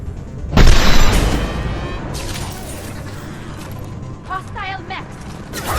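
A hostile mech stirs in the video game Mass Effect 2, with a heavy mechanical boom and clanking servo movement, then metallic creaks and rattles under game effects and brief voice chatter.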